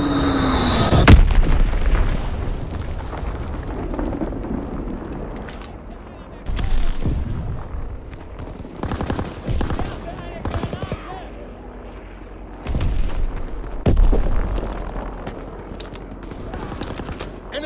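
Explosions from a bombing run boom alongside bursts of gunfire in Call of Duty: WWII, with loud blasts rising at intervals over continuous battle noise.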